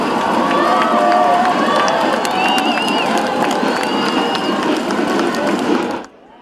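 A large crowd of families at a military parade in a city's main square cheers and applauds as the first ground contingent passes, a dense continuous roar of shouts, whistles and clapping that cuts off near the end.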